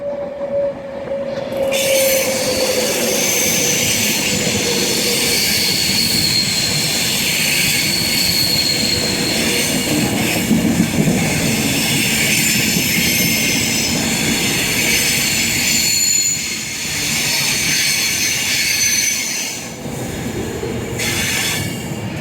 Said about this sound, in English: arriving in now is going to be the 1343 Virgin Train service to London Euston